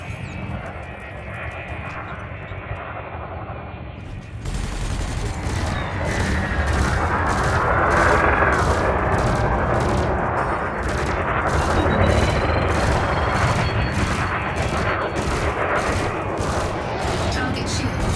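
Burst lasers in Elite Dangerous Odyssey fire against a target's shields, a dense stream of rapid, loud energy-weapon pulses over a steady ship engine hum, with spoken narration partly heard.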